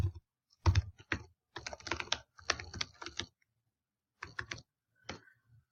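A computer keyboard clatters in short bursts as an email address is typed, with quick clustered keystrokes separated by brief silent pauses and no talking.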